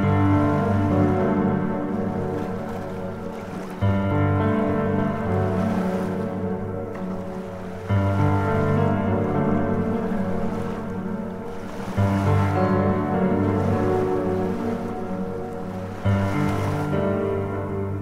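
Sea waves surge and wash onto a beach in steady, repeating swells roughly every four seconds, a continuous loud roar of surf with wind noise and no voices.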